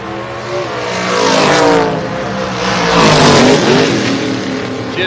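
Ford race cars, including a Ford Fairlane, launching at a drag strip, loud engines roaring and revving as they accelerate hard down the track, with rising and falling pitch over a steady roar.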